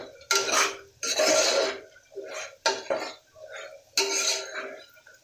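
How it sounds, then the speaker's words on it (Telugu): A metal spoon clatters and scrapes against a pan as toor dal is stirred and roasted, in several sharp bursts separated by brief pauses, close and fairly loud with no talk. "బాగా వేయించుకోవాలి కందిపప్పు"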